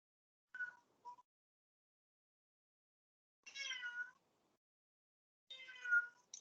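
A pet cat named Sora meows indoors during a math lesson, a short faint call followed by two longer drawn-out meows separated by quiet gaps.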